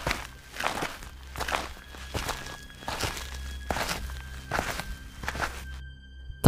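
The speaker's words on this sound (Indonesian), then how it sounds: "Terdengar seperti ada beberapa langkah kaki orang yang sedang berjalan." Several people walk on a mountain trail, their footsteps landing in an irregular, moderately close series of soft thuds over a low steady hum.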